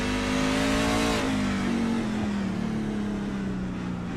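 A racing truck's engine drones steadily on a Chicago street course, a loud, close, sustained tone that shifts slightly in pitch partway through, with no talking.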